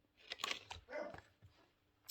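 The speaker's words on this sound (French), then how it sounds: "J'ai mon chien qui aboie, mais c'est pas grave." A pet dog barks indoors in a few scattered, fairly faint yaps and short bursts, with no one speaking over it.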